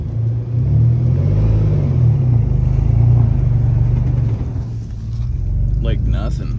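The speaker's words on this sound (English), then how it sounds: "I just put it in four wheel and see what happens." A vehicle in four-wheel drive rumbles along off-road, its engine droning steadily and loudly close by, with speech over it.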